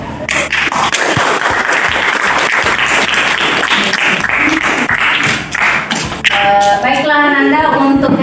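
A school class of students claps for themselves at the end of a lesson: loud, dense, continuous applause close by, with some scraping and shuffling, then tapering near the end as voices and a brief tone take over.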